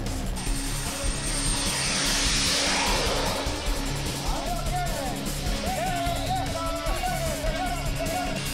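A monster-scale radio-controlled C-17 Globemaster model aircraft, 300 pounds with a wingspan over 20 feet, flies past with a steady loud engine roar that swells and fades, under a murmur of crowd noise.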